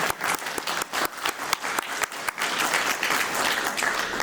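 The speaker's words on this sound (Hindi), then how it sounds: "श्री सुधीर अग्रवाल जी, आप तालियों से इनका स्वागत करिए" Audience applause welcomes a guest at an award ceremony in a hotel hall, steady dense clapping that swells and holds, moderately loud and continuous, with no speech over it.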